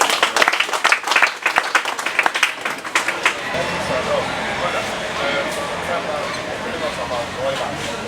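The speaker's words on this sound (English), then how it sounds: "clap for yourself" Seated audience of farmers at a poultry scheme profiling session clapping, first in distinct sharp claps for a few seconds, then merging into a dense sustained round of applause with crowd noise.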